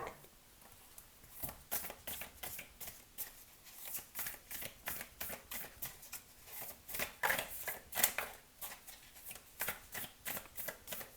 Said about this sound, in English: So we're going to pull a few cards from this deck.